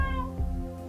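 Nathan the cat lets out a single clear, drawn-out meow, fairly close and moderately loud, with no other sound around it.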